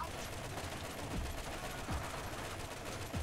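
A weird Borderlands gun with a 600-round magazine, whose bullets travel in spirals, fires quick, faint bursts of shots that are mixed low under a constant game bed.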